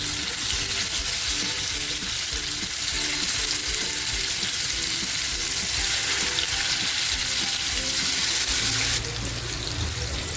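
Surmai (kingfish) pieces frying in a pan without any rice-flour or semolina coating, a loud, steady sizzle that fills the clip and fades a little near the end, with no talking.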